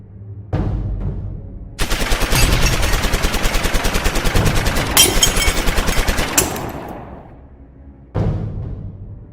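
Rapid movie gunfire as a man is shot many times: a single loud shot, then a long sustained burst of fast automatic fire lasting several seconds, followed by another lone shot, sharp and close.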